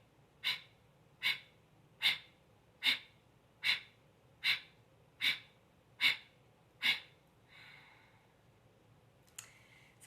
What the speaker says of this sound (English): I'm going to have rapid exhale